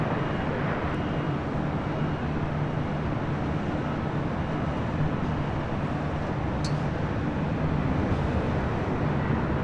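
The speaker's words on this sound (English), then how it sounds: "Now we got the Latam 767-300ER in the lawn livery, rolling down 25 right." LATAM Boeing 767-300ER rolling down runway 25 right at LAX, a continuous, fairly distant rumble of jet engines holding steady and even throughout, with no one speaking.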